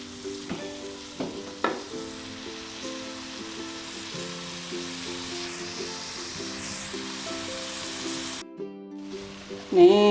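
Garlic chives stir-fried with tofu and petai in a pan give a steady, gentle sizzle with occasional stirring scrapes, while a melodic tune plays over it throughout.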